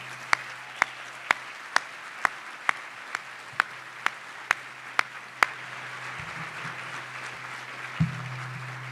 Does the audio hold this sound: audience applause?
yes